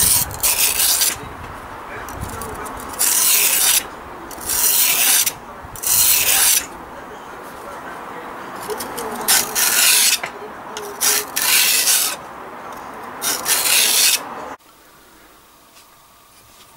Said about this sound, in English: So let's sharpen a traditional knife the traditional way with a stone.